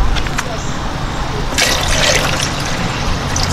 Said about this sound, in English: I'm going to go ahead and fill this up to the line that it recommends